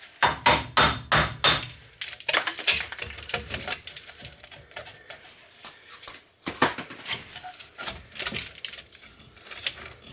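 Sharp metallic hammer taps on a Nissan 350z wheel hub and bearing assembly, coming in quick bursts of closely spaced strikes with pauses between, loud and close with some ringing clinks.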